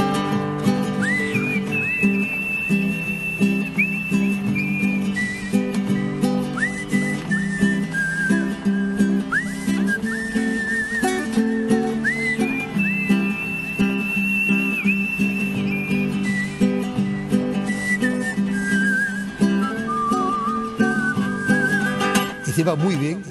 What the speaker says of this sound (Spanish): Silba muy bien, una técnica que yo me quedo asombrado,